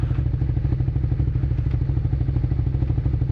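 A 2002 Suzuki SV650S motorcycle engine idles loudly and steadily up close as the rider shifts down into neutral, with a faint mechanical clatter over the low rumble.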